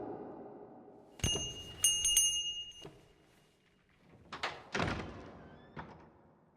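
A bell rung in the video game The Book of Unwritten Tales 2: a few sharp metallic strikes with ringing tones, heard in separate bursts along with heavy thuds, and no voices.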